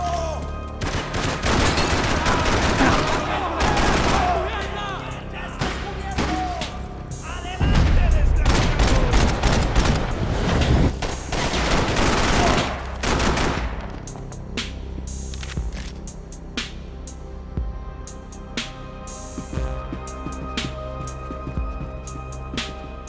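Dense gunfire from the Max Payne 3 video game, heavy bursts of rapid shots and booms crowding the first half, then thinning into scattered single shots and short volleys, with faint voices underneath.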